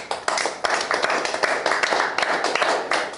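A church congregation claps together during a worship service, a dense, steady wash of many hands with occasional sharper claps standing out, loud and continuous throughout.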